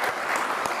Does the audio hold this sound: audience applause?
yes